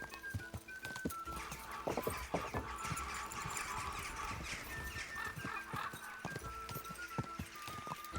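Horse hooves clip-clop in rapid, uneven rhythm in the medieval video game Kingdom Come: Deliverance II, steady and fairly close with faint game ambience behind.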